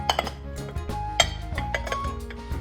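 A ceramic ceviche bowl and plate of Belizean conch ceviche clink and knock together as they are flipped, with a few sharp ringing taps and scrapes close up.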